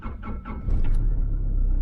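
Isuzu Mu Wizard engine starting sluggishly, three slow labored cranking turns before it catches into a low, close rumbling idle.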